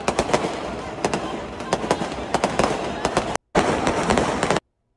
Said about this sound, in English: That was quite a fireworks show